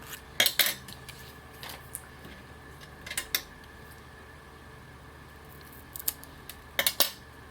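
Scissors snip a few small pieces off material for a handmade masculine card tag, giving several short, sharp metallic cuts in quick pairs, close and fairly quiet over a faint steady background hum.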